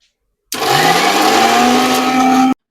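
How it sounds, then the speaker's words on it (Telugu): A mixer grinder whirs through mint chutney in one loud, steady two-second burst, starting and stopping abruptly, with silence before and after. "పచ్చడి మొత్తం కూడా ఇట్లాగైతే నేను మిక్సీ అయితే పట్టేసుకున్నాను"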